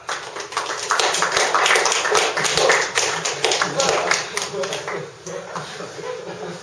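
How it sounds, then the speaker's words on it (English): Applause from an audience fills the space, a dense wash of clapping that swells and then tapers slightly, with some voices mixed in. "Can we have a round of applause?"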